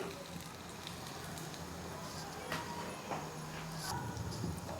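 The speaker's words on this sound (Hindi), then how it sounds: "ये सभी साइडों से अच्छी तरह से फ्राई हो चुके हैं" Vegetable seekh kebabs fry in a pan of hot oil, giving a steady, dense sizzle and crackle throughout. Occasional louder pops and spits rise above it, heard close up.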